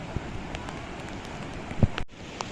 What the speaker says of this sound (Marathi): पाऊस खूप आहे.